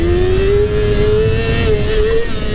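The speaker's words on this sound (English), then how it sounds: "Accelerate up to about 6 grand," A Yamaha R6 5EB sport motorcycle revving hard as it accelerates for a wheelie, a loud, close engine whine climbing steadily in pitch before cutting off near the end.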